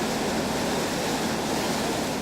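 Waves rolling and breaking white on Lake Nasser, a vast dammed reservoir on the Nile, heard as a steady, unbroken wash of surf with wind noise, no voices.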